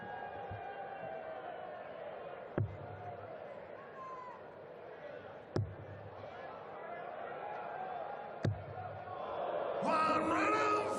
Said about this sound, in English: Big crowd here in Hamilton.